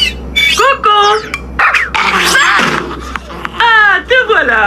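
A cartoon dog in an animated children's series gives loud, close, excited barks mixed with whining and yelping cries in quick irregular bursts.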